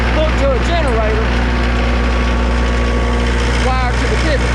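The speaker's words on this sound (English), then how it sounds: "This is a little diesel engine hooked to a generator" A small diesel engine running a generator for an irrigation pivot holds a steady, loud, even drone throughout, with a few faint chirps over the top.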